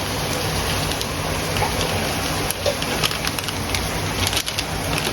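Black masala fries in oil for a spicy Aagri-Koli style mutton curry, giving a loud, continuous hiss and crackle close by with no break from start to finish.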